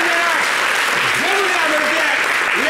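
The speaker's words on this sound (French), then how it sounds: "On a applaudi pour ça." Audience applause rises as a steady wash of clapping, with a voice speaking over it in a comedy performance.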